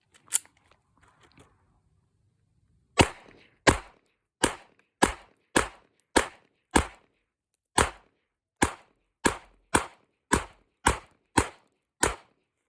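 Fourteen sharp pistol shots from a BulArmory SAS II lightweight firing Aguila 124 grain FMJ rounds, evenly spaced in a steady string after a brief quiet lead-in, loud and close with quick decays.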